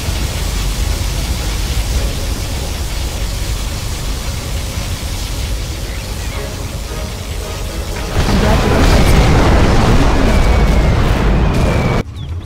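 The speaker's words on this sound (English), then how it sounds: "Particle cannon activated." A particle cannon blast from the Generals Shockwave mod, a real-time strategy game: a sustained roaring wash of noise that swells louder near the end, then cuts off abruptly.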